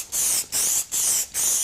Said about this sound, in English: You can spray Q30 straight onto the